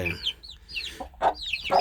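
Chickens clucking and calling close by on a Hmong family farm, with several short, bright cackles and clucks in bursts, one hen louder near the end.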